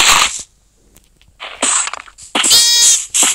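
A small cat in the Craftsman video game gives brief, sharp meow-like calls, loud and close, in short bursts separated by gaps.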